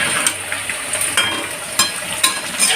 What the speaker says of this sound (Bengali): মাটন কষা হচ্ছে আর সেখানে একটু বিরিয়ানি মশলা দিয়ে দিল।